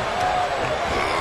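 Crowd roars and cheers steadily in a WWE 2K22 wrestling arena, a dense continuous wash of noise with no break.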